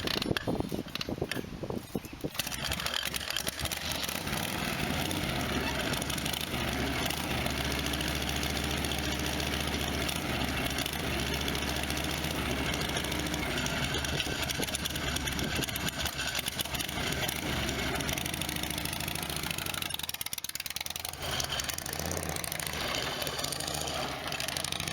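A Harley-Davidson Shovelhead chopper engine runs steadily on a long road ride, with a continuous loud, close drone and mechanical clatter.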